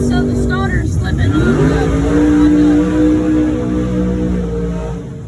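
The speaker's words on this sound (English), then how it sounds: "starter bolts are loose, so I'm tightening them up because the starter's slipping on the flywheel" A drag car's starter, its bolts loose, slips against the flywheel, grinding and whirring loudly before the engine tone rises and settles into a steady idle-like drone, with voices faintly in the background.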